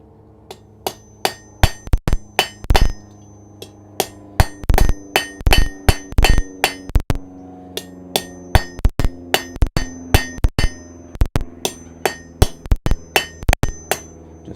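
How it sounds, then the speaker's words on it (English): Hammer blows ring out on hot metal at a smithy anvil as a twisted piece is forged straight, a steady run of sharp, loud metallic strikes in irregular quick bursts with brief pauses, close by and without talk. "And then a little forging, and it'll be like it was never twisted."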